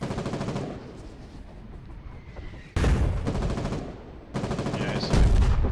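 Booming shots from 120mm artillery in the video game Foxhole. Three heavy blasts go off a few seconds apart, with rumbling tails between them and no speech over them.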